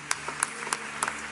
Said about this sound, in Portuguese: Você pode celebrar o Senhor com as suas palmas.